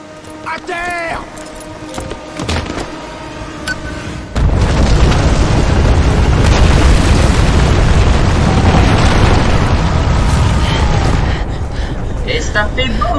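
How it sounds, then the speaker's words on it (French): A video game explosion erupts suddenly after a few seconds of voices, then becomes a loud, sustained, rumbling roar that carries on to the end. "Et ça fait boum! Paf!"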